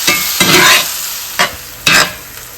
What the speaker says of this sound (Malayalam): നമുക്ക് അതിലേക്ക് തക്കാളി ചേർത്ത് കൊടുക്കാം കേട്ടോ. പിന്നെ വീണ്ടും പഴയ പണി തന്നെ വീണ്ടും നമുക്ക് ഇളക്കിക്കൊണ്ടിരിക്കാം കേട്ടോ.